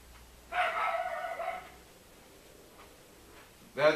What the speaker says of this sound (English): That's my dog barking out there